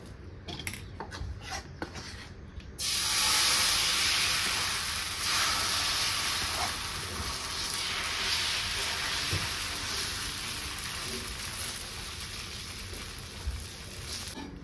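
Tulsi-leaf dosa sizzles loudly and steadily on an oiled griddle, a dense frying hiss that starts abruptly after a few seconds of quieter kitchen clatter and runs on alone.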